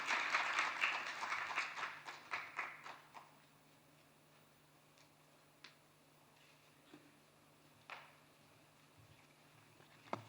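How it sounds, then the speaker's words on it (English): An audience at the African Development Impact Forum's afternoon session applauds the closing speaker, a loud burst of clapping over the first three seconds that quickly thins to scattered claps, then faint room noise with a few stray knocks. "Please give him a resounding round of applause as he takes the floor."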